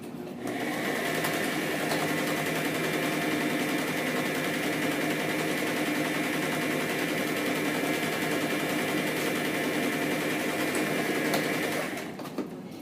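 A sewing machine runs steadily for about eleven seconds, stitching pieces of a quilt together face to face, a close, even motor whir with a rapid needle rhythm that starts and stops cleanly.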